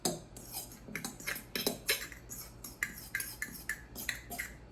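A metal fork works butter into a crumb topping in a bowl for blueberry lemon sourdough discard bread, giving irregular quiet clinks and scrapes against the dish in a steady uneven rhythm.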